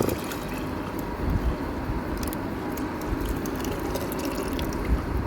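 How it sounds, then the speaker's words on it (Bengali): Warm liquid pours steadily into a vessel, a continuous close splashing and gurgling stream with small drips, with no voices. "এবার পাত্রে ঢেলে দেব"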